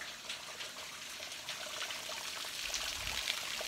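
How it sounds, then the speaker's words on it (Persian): Water trickling and flowing outdoors in the Soltali area of Dehloran, a steady faint rushing stream with a soft splashing texture, continuous and alone. "صدای سرسر آب."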